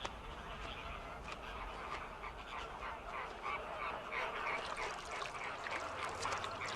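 Dense chorus of Caribbean flamingos from a huge nesting colony in Cuba, a continuous goose-like honking and gabbling from many birds, steady and moderately loud with no single call standing out.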